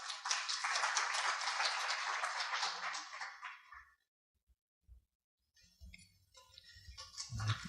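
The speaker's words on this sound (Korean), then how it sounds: "큰 박수 부탁드립니다." An audience at a 2013 Korean university launch event applauds with dense clapping for about four seconds, then it dies away into near silence with a few scattered knocks and rustles.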